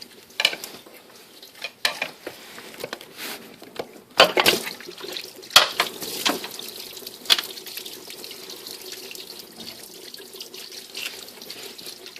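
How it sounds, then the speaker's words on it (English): Coolant drains from a 3.1/3.4 engine into a drain pan, making a steady trickling, splashing liquid sound broken by occasional louder splashes and clanks nearby. "Quite a bit of coolant's going to come out."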